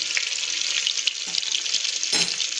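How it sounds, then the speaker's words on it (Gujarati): Cumin and whole spices sizzle loudly in hot oil and melted butter, a steady close crackling fry with a few brief stirring scrapes. "જીરું અને ખડા મસાલાને તેલ અને બટરમાં સારી રીતે આપણે થવા દઈશું।"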